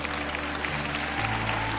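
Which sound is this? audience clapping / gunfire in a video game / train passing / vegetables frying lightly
audience clapping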